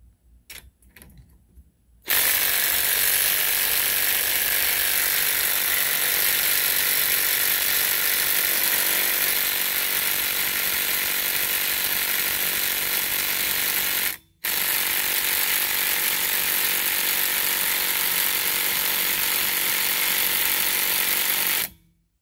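A Ryobi P235 impact driver hammers at stuck lug nuts on a Toyota Camry in two long, loud, rattling bursts, with a brief pause between them.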